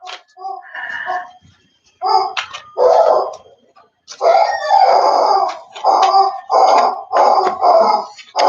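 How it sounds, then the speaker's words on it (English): A dog barks and yips repeatedly while playing with a toy in the background, short loud bursts in an irregular rhythm, with some vocal-like whines mixed in. "If you hear that noise in the background, it's my dog"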